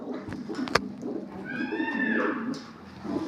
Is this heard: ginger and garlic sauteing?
no